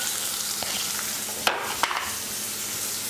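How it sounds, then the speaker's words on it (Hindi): Onions frying on medium flame in a pan for a potato spinach curry, a steady close sizzle with two short clatters of stirring partway through, no voices. "प्याज को मीडियम फ्लेम पर भून लेंगे।"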